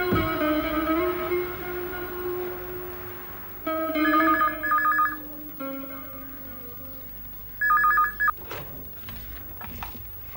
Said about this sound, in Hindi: पापा, लगता है अंदर फोन बज रहा है, मैं जरा देख आती हूँ।